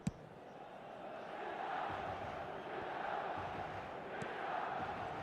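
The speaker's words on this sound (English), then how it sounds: "a lot of applause for the thought" A stadium crowd in the eFootball video game roars and claps in a steady wash of applause and cheering, fairly faint and continuous, with a sharp knock at the start.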